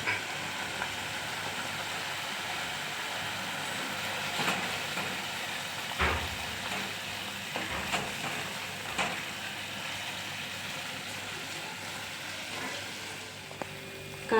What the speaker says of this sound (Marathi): आपण त्याच्यामध्ये टोमॅटो प्युरी टाकून घेऊ आणि याला आपण असं मस्त तेल सुटेसर परतून घेऊया 1 ते 2 मिनिट.